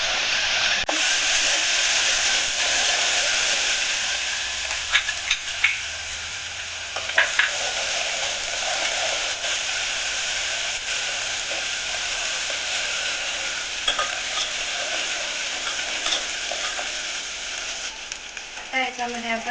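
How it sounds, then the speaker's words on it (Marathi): Steady, bright sizzling of curry leaves, asafoetida and chili-garlic paste dropped into hot oil for Vidarbha-style kadhi, loud and continuous with a few sharp crackles and spatters throughout. "आता आपण कढीपत्ता टाकणार आहोत, हिंग टाकणार आहोत, त्याच्यानंतर मिरची आणि लसूणची पेस्ट टाकणार आहोत"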